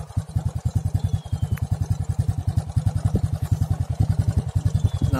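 A Kawasaki Edge motorcycle idles close by, its exhaust popping in a fast, even pulse that stays steady and loud throughout with no revving.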